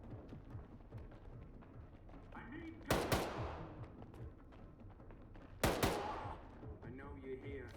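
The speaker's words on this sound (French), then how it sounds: "Qu'est-ce qui tire là?" Gunfire in the video game STALKER 2: two loud, sharp bursts a few seconds apart that ring out and decay, with game ambience and faint voices between them.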